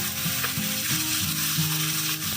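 Boiled chana dal tipped into onions already frying in oil, giving a steady close sizzle with a few soft stirring knocks, no voices.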